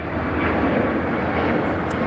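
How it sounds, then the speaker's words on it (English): A fixed-wing airplane passes over Los Angeles International Airport (LAX), a steady, loud broadband engine roar that holds evenly throughout with no talking. "And okay, there's a plane."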